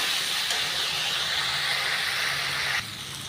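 Water used to rinse a container is poured into spice paste frying in a pan for a rohu fish curry with new potatoes and tomato. A loud, continuous hissing sizzle drops abruptly to a lower steady fry near the end.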